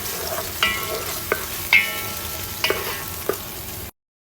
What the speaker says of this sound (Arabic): بنحط اول شي زيت زيتون، وبنحط البصل والثوم، بس بخليه لين يدبل